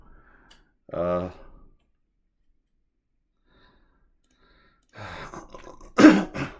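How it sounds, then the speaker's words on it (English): One person at a Scrabble game clears the throat with a short, rough burst, then after a long silence coughs and clears the throat again, close and loud. "I have a cough, and I developed this recently"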